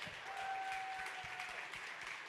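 Audience applause at an opening ceremony in a history centre, a steady wash of many hands clapping with a faint sustained tone running through it, moderately distant and even throughout.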